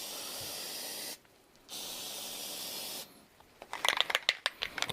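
Spray can applying Plasti Dip to a 2005 Ford F150 grille in a cold basement: two long steady hissing bursts separated by a short pause, then a few quick spurts and clicks near the end.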